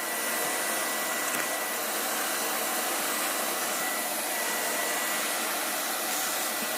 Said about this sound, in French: on aspire tout ce qu'il peut y avoir, surtout là, dans les rainures, pour qu'il n'y ait rien qui déborde